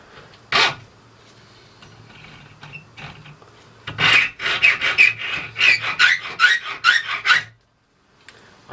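A bicycle fork crown race is cut with a hand tool, giving a single sharp rasp, a pause, then a run of rhythmic rough scraping strokes before stopping.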